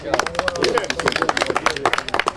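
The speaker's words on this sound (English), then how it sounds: "Give the lady a round of applause" An audience at a presentation gives a lady a round of applause, with quick, uneven claps crowding together over a few seconds while a voice speaks over them.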